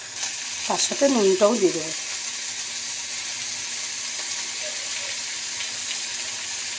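Spice masala sizzling in a frying pan, a steady close hiss that keeps going under a woman's short spoken remark.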